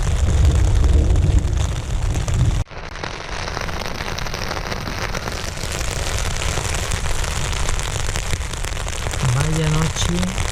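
Heavy rain drums steadily on a tent in the mountains during a night thunderstorm, with a sharp jolt partway through and a constant dense patter throughout.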